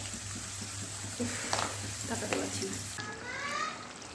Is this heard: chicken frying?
yes